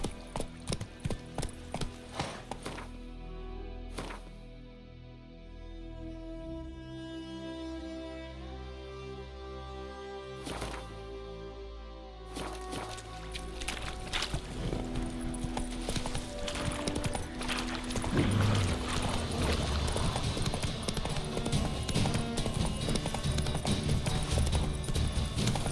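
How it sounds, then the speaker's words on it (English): A horse's hooves clip-clop in The Witcher 3 video game, rhythmic hoofbeats over music that drops away for a calmer stretch, then return as a quicker, louder gallop under the score. "Stop! Whoa there, Roach"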